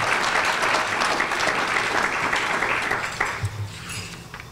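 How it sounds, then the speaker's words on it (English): Steady audience applause filling a room at a Pasco Chamber of Commerce monthly luncheon, many hands clapping continuously and tapering slightly toward the end. "let's give them a round of applause too"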